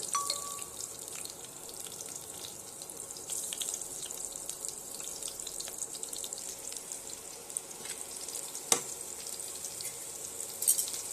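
Cumin seeds and green chili frying in hot oil, a steady soft sizzle and crackle close by with occasional small pops, no voices.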